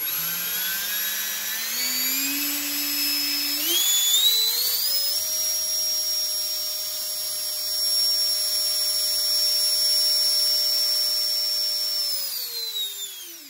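A 9-blade 80 mm ducted fan driven by a 1920kv inrunner motor spools up from a low whine to a steady, loud, rising shriek, holds there for several seconds, then winds back down at the end, with no talking.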